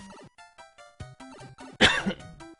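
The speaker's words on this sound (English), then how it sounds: "I'm coughing all of a sudden." A man gives a sudden loud cough with some throat clearing, close to the microphone, between snatches of retro Super Mario Bros. 3 game music during a charity gaming stream.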